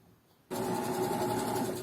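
A sewing machine starts abruptly after a quiet moment and runs in a steady, fast mechanical whir while backstitching at the start of a seam, close and even in loudness, with no talking.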